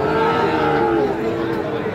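Sahiwal bull calves and other cattle at a busy livestock market, with a steady crowd murmur and a low, sustained moo-like tone running through.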